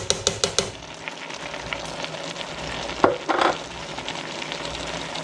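Loaded baked beans are stirred gently in a pot: a few quick clinks of a spoon against the rim, then a soft continuous bubbling sizzle with slow wet scraping, near and moderately loud.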